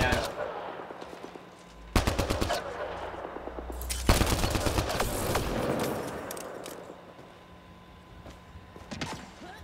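Rapid automatic gunfire from the Mass Effect Andromeda shooter game comes in several loud, dense bursts with pauses between them, over low rumbling, and voices talk beneath the shooting.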